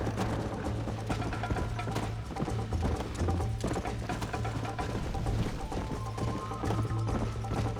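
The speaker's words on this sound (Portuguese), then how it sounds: "Pô, mas esse cavalo é muito descontrolado." A horse gallops in the Western game Red Dead Redemption, its hooves clip-clopping in a fast, steady rhythm under continuous music and ambient game sound, close and fairly loud throughout.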